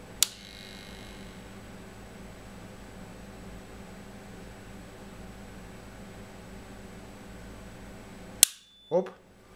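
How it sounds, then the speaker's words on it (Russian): A 16-amp type B circuit breaker trips during an overcurrent test: a sharp click near the start, a low steady hum under load, then a loud snap as it trips and a softer clack just after, with the hum stopping. "Автомат отключился."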